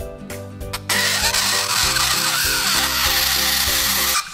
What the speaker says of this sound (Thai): เสียงความสุขของน้ำแข็งแห้งกรีดร้องกันใหญ่เลย